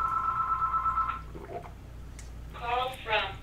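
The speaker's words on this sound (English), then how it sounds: "excuse that phone. It'll stop ringing here in just a second." A telephone rings in a workshop that is not the office line, a steady tonal ring holding for about a second at the start, followed by shuffling noises and fainter warbling tones later, over a constant low hum.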